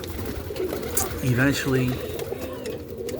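Roller pigeons in a loft give soft, low coos in a brief cluster amid background bird noise, while someone talks over them.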